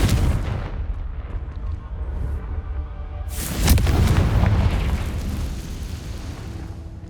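The Confringo blasting curse in the game Hogwarts Legacy detonates as a loud, close explosion with a sharp burst and rumbling decay, rising out of steady in-game ambience.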